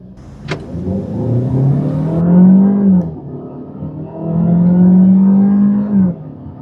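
A 2024 Peugeot 408 accelerating from the driver's seat, the engine note rising in two long revving pulls separated by a gear change, loud and close inside the cabin, with a brief sharp click at the start.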